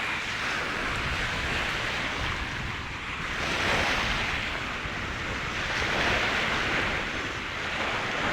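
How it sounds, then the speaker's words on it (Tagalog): Steady ocean surf rolls and washes continuously, with broad swells of noise rising and falling, plus some wind rumble, no voices. "yan sa may tabing dagat kami dumaan"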